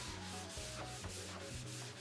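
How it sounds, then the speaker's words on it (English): Rhythmic back-and-forth rasp of 180 grit sandpaper on a wooden cutting board, close and steady with regular strokes about every half second. "I'm sanding with a 180 grit sandpaper"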